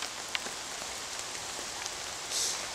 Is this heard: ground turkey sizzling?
no